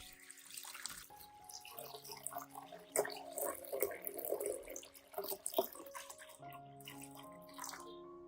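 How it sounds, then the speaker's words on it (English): Two liters of water pour into a clean pot holding potato peels, a gurgling, splashing stream that swells midway and then eases, heard close and fairly quiet. "Then I add 2 liters of water and bring it to a boil."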